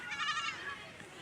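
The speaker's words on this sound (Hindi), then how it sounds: "ये इधर से भी बकरियां आ रही है।" Goats bleat faintly in the open as a herd returns home around sunset after grazing, with a short quavering call under background voices.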